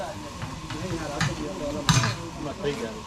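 Tempering (vaghar) for wild undhiyu sizzles in hot oil amid stirring scrapes and a few sharp clinks from the pot, with voices talking in the background.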